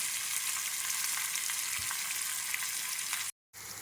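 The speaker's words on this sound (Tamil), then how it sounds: "இதை வணக்கி கொட்டிக்கலாம்" Large chopped onions frying with cumin in a pan give a loud, dense, continuous sizzle close by, cut off by a short silent gap near the end.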